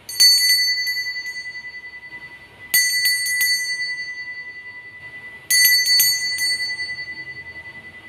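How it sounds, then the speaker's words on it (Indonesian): A bright bell rings three times at spaced intervals, each strike clear and sustained before slowly fading out. "Kita akan memulai dengan lonceng berbunyi."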